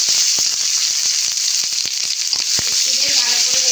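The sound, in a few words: bay leaf, dried chili, cardamom, cloves sizzling in oil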